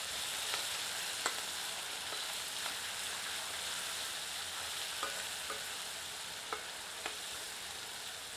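Ginger-garlic paste frying with whole spices on medium heat for chicken rezala, a steady loud sizzle with occasional sharp pops and spatters throughout, no voices.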